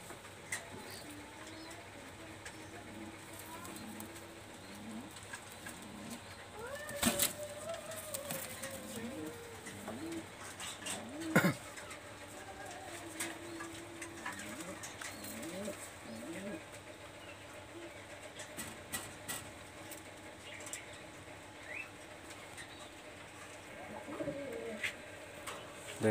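A Pakistani high-flyer teddy pigeon, number 128 from a pair, coos softly again and again over a faint, low background, with a few sharp clicks and other small noises scattered through.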